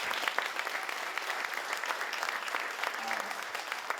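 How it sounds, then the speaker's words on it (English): An audience at a 2024 State of the City civic event applauds in a steady, dense wash of many hands clapping, moderately distant and continuous for several seconds. "give them a little applause here"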